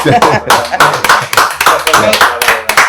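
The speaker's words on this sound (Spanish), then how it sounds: "Este aplauso va para la abogada." A small group claps in quick uneven bursts, fairly close, with voices talking and murmuring underneath.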